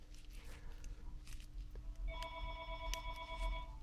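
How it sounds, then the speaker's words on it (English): A telephone rings with an incoming call in a room during a watch collection showing, a faint electronic ring starting midway and pulsing under background hum. "I'm apparently getting a phone call."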